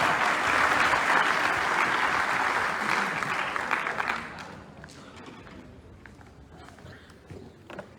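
Seminar audience at an arts council hall clapping in a thick, sustained burst of applause that fades out after about four seconds, leaving scattered isolated claps and faint shuffling.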